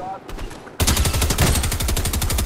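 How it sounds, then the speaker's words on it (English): Gunfire in a Fortnite match: a few scattered shots lead into a sudden, loud, rapid automatic burst that keeps firing in quick succession, close and dominant, with a voice faintly present beneath. "Yep, shots."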